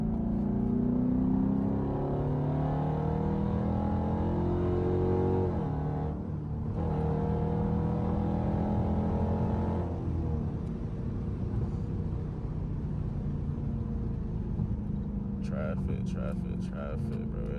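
A straight-piped Dodge Durango engine rumbles deep and loud from inside the vehicle, steady with a couple of revs and brief dips, while someone talks over it throughout.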